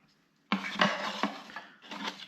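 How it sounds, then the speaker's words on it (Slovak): Metal spoon and fork from a camping mess kit clinking together in a few sharp, close taps after a moment of silence, with a brief pause before more rattling. "máš tu lyžičku a vidličku"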